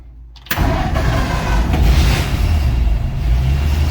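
A 1951 Ford F1 pickup truck engine started by push button: quiet at first, then the engine catches abruptly and settles into a loud, rumbling idle close by.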